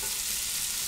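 Chopped onions sizzle steadily in a pan over medium-high heat as the start of a chili con carne, giving a close, even hiss with no voices.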